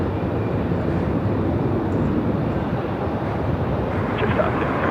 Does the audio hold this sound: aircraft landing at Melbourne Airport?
yes